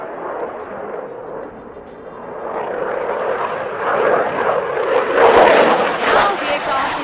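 A fighter jet roars through a tight maximum-rate turn at the Aero India air show in Bangalore, the engine noise rising steadily in loudness and pitch toward the end, with an announcer's commentary running over it.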